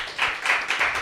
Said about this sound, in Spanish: otro gran aplauso para los chiquillos que se han pasado